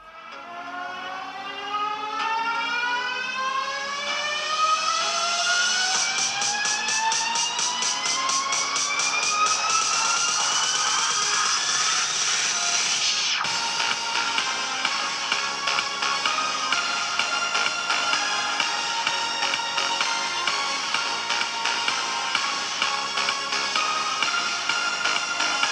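Game audio plays through the built-in speakers of a Nintendo Switch OLED: a rising, sweeping synth tone climbs steadily, then gives way to a dense, continuous electronic soundtrack at steady volume.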